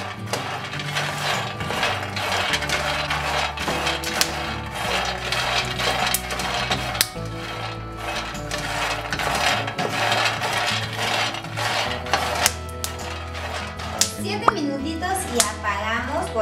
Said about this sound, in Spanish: estos granitos ya empiezan a tronar